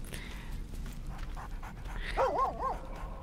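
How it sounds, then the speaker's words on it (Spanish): A dog pants in the video game Baldur's Gate 3, quick soft breaths over a low murmur of background game ambience, followed by a brief whining yelp near the end. "¡Ah, está el perrito!"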